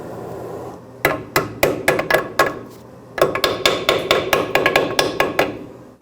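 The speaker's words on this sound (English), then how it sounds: "put this new shim on, tap it down" A hammer taps a new brake shim into place on a 2009-2011 Ford F-150 rear brake, striking in two quick bursts of sharp metallic blows, about eight and then a dozen, close and loud with a short pause between.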